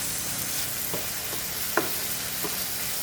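Tuna flakes and potato sizzle steadily in a pan while a utensil stirs and scrapes in a few soft strokes, close and continuous without talk.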